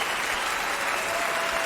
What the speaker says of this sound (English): Man, them hand claps are really going, huh?